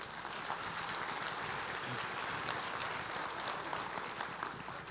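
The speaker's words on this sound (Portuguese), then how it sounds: "Dê um aplauso ao Senhor." Church congregation applauding together, a steady, dense wash of clapping filling the room without letup and with no voices standing out above it.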